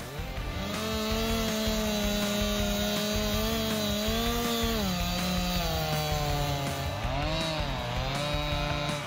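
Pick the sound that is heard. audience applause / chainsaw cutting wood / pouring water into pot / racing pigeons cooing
chainsaw cutting wood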